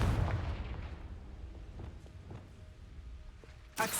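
A Confringo blasting spell goes off in Hogwarts Legacy, opening with a loud low boom that rumbles and fades into softer game sounds and scattered thuds, then a sharp bright burst near the end.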